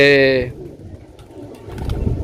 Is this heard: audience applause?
no